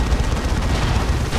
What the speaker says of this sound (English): The Monisher Cannon